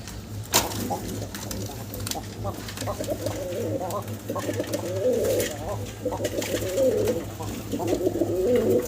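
Pigeons on a fancy-breed farm coo steadily in repeated low, throaty phrases through the clip, close by and moderately loud over a constant background hum, with occasional faint chirps.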